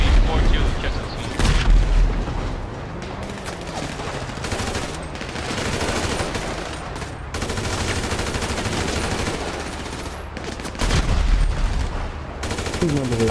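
Gunfire and blasts from a bomb explosion in the video game GTA 5, loud bursts and booms recurring across the span with game noise and voices underneath.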